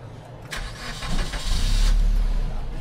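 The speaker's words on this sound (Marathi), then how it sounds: "चालू कर गाडी चालू कर." CNG car engine cranking and starting after refuelling, a short starter whir followed by the engine catching and settling into a loud, close idle.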